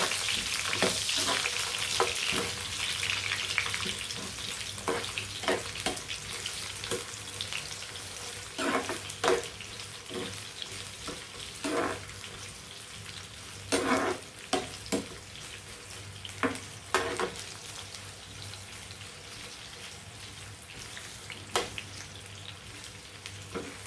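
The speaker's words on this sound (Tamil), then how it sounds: "ஒரு பெரிய வெங்காயம், இதை நான் எண்ணெயில் போட்டு வதக்கி போட்டுறேன்." A large onion frying in oil in a pan, a steady soft sizzle broken by repeated scraping and clinking as it is stirred, close, fairly quiet and without talk.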